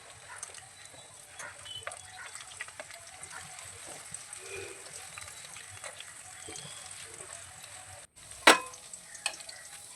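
Afghani chicken kofta fry on a medium-low flame with a faint, soft, steady sizzle and light crackling, then a sudden sharp clink near the end.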